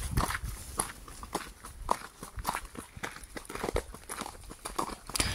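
A horse walks along on a ride, its hooves clip-clopping in a steady, uneven rhythm of sharp knocks, close by and moderately loud, with no talk over them.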